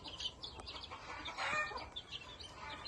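Chickens cluck softly around newly hatched chicks on the ground, with short bird calls scattered over an outdoor background hum.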